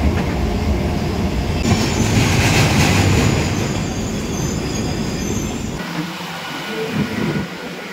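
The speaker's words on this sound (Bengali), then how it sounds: "সামনে থেকে আসছে আমাদের কৃষ্ণনগর লোকাল।" A Krishnanagar local passenger train, loud and close, with rumbling wheels, rattling carriages and some squealing metal, the roar easing and thinning toward the end as it passes.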